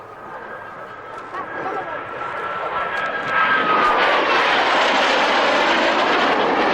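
Hawker Hunter jet roaring past at an airshow at Kemble Airfield, the engine noise swelling from a distant whine to a loud, broad rush, with a voice faintly audible beneath.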